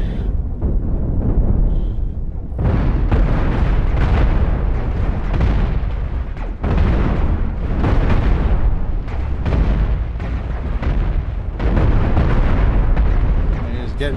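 Rapid cannon fire and explosions in the space combat game Cosmoteer, loud dense bursts and booms following one another in heavy continuous barrages with only brief gaps.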